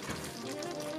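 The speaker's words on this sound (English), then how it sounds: "Going in with our vegan beef slices." Vegan beef slices drop into a pan of restaurant-style Chinese brown sauce, giving a faint, brief, even sizzle with soft bubbling.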